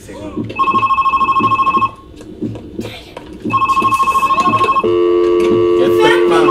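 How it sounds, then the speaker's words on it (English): Telephone ringing in the video game Monaco, a loud electronic double-bell ring repeating in bursts, then a steadier tone, with excited voices talking over it. "Pick up that phone!"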